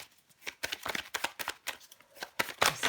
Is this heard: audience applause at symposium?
no